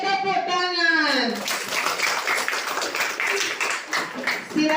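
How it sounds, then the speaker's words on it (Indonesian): A group of children sing a short phrase, then break into lively, scattered hand clapping that carries on for several seconds, close by, with chatter and a few voices mixed into the applause. "Oke, tepuk tangan."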